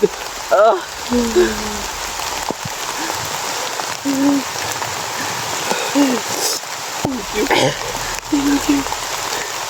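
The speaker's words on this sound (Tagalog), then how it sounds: "Ulang-ulan na." Steady rain patters across a surface throughout, with a few voices and faint bird calls breaking through now and then.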